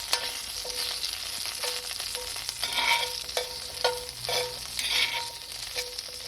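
Seasoned asparagus sizzling and being tossed in a frying pan, steady frying hiss broken by several bursts of rattling as the spears are stirred and flipped.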